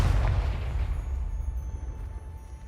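Confringo fire spell going off in Hogwarts Legacy, a deep booming blast at the start that rolls off into a low rumbling decay, alone with no talk.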